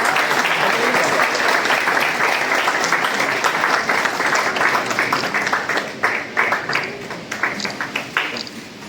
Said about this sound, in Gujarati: જુનાગઢ શહેર ભાજપ પ્રમુખનું સ્વાગત આપણે તાળીઓથી કરીએ